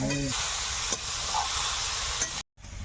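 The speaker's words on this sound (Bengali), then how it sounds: "ওদিকে তো ভাজাটা হচ্ছে" Desi chicken with dried shrimp fries in a pan, giving a steady, close sizzling hiss that holds evenly before cutting out briefly near the end.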